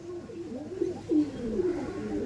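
A handled pigeon, a female flying-tournament bird, gives low rolling coos in a few near, steady phrases with a brief louder swell midway.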